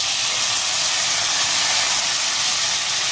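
Chickpeas tossed into hot oil with golden fried garlic give a loud, steady sizzle and hiss that holds unbroken and close throughout.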